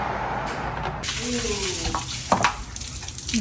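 Old stale water pours and splashes steadily out of the engine of a long-parked 1953 Peterbilt Needlenose truck, a continuous hissing, gurgling flow close by, with brief voices partly over it.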